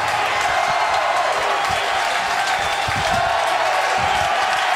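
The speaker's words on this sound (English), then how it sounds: "And the crowd reacts" Baseball stadium crowd at an LSU vs UCI 2008 Super Regional game in the ninth inning, a steady dense roar of many voices with scattered cheers and claps throughout.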